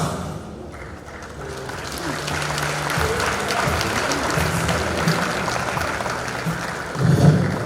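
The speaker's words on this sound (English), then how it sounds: "Thank you for that applause in response to that beautiful theme" Sustained audience applause fills a large hall at a formal bankers' dinner, a steady even wash of many hands clapping that swells slightly louder near the end.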